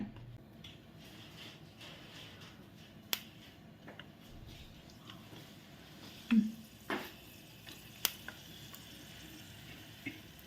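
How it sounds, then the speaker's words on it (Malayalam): Sliced onions fry quietly in oil for biryani with a soft, steady sizzle, broken by a few sharp clicks and taps from a utensil. "ആദ്യം നമുക്ക് സവാളയൊന്ന് വറുത്തെടുക്കാവേ"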